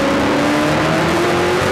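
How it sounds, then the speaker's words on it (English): Stock race cars roar past on an oval track during the 2008 Pizza Pizza 300, their engines a loud, steady droning blur with rising and falling pitch. "That 4 car, he's under a barrage of attack from the 22 of Scott Steckley"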